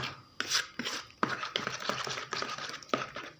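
Eggs beaten by hand in a bowl with cumin, black pepper, paprika, turmeric and salt, a close, steady run of quick scraping and clinking whisk strokes with no talking.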